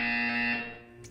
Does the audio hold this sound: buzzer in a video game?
yes